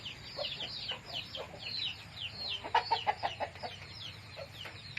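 Several free-range village chickens cluck and chatter continuously, with a burst of sharper, louder clucks midway over a low background hum.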